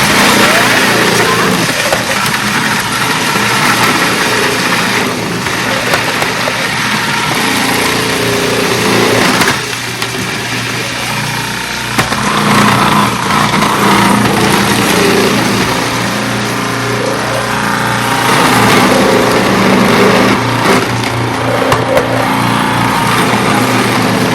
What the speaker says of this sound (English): you can use a food processor. So we're gonna go ahead and turn this on, and it's gonna go super fast.